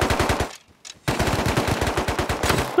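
Sustained automatic gunfire in the survival game Rust, a rapid, loud, close stream of shots that cuts out briefly for about half a second before resuming just as fast and steady.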